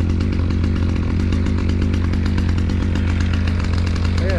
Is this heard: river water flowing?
no